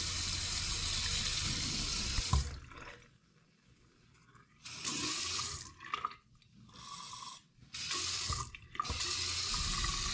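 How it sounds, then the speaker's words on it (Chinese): A rusty, noisy washroom faucet is turned on and off repeatedly, its water gushing loudly into the sink in several bursts separated by near silence, close up and without speech. "同时也要多活动一下水龙头的开关"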